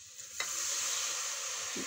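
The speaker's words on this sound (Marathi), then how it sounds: "थोडंसं पाणी घालून घेऊ तिखट शिजायसाठी" Chili masala cooking in a pan with a splash of water added, giving a steady, close hiss of sizzling broken by a brief clink of a spoon or utensil.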